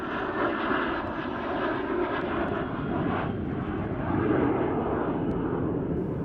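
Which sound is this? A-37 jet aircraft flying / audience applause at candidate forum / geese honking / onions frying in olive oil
A-37 jet aircraft flying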